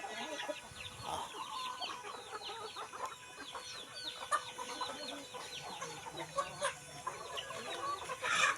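Chickens cluck and chatter in their coop on a small farm, many birds calling together at moderate distance, with frequent overlapping clucks and short squawks over a faint outdoor background.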